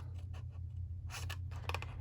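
Large craft scissors cutting straight down through paper for a small pizza gift box, heard as a few quiet, close snips and slicing rasps clustered near the end.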